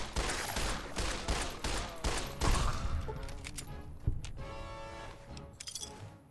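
Rapid bursts of gunfire in the video game Fallout: New Vegas, a string of quick sharp shots followed by a few scattered reports and a metallic ringing tail.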